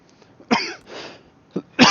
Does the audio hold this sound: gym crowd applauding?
no